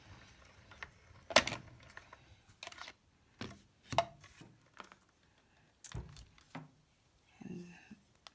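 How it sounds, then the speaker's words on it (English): A paper circle is die cut by running a plate through a die cutting machine, producing scattered knocks, thunks and short grinding bursts at close range, separated by quiet gaps. "Run that through and die cut that circle out."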